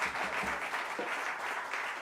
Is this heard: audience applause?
yes